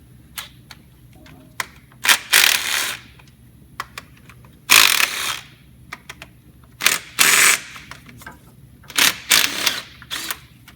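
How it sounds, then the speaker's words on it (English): Bolts being removed from a Silverado engine during AFM lifter replacement, heard as bursts of rapid ratcheting clicks separated by quiet pauses, close and fairly loud, with no voices. "let's go ahead and get the bolts all the way out"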